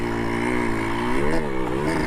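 A Honda MB5 motorcycle engine runs close by, its pitch rising and dipping as the throttle is blipped in short revs over a steady, loud buzz.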